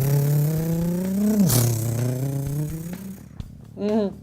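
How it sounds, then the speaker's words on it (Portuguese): A car with a conventional gearbox revs from low engine speed up toward the limit of a gear, a steady rising drone that dips once mid-pull, then a short second rev near the end, loud and close. "Esse barulho significa que o carro começa numa rotação baixa e vai aumentando, vai forçando até chegar no limite daquela marcha."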